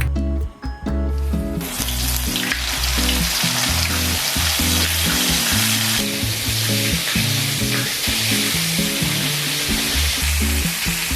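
Breaded, marinated chicken fries in hot oil for breakfast, a loud continuous crackling sizzle close up with light stirring knocks and no talk.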